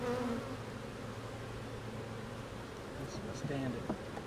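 Honey bees buzz in a dense, continuous drone around a brood frame pulled from a hive, close and steady with faint rustling.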